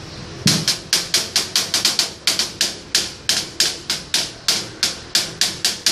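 A hi-hat on a homemade drum kit is struck in a quick, steady series of sharp, bright ticks, about four per second, close and loud with no talking.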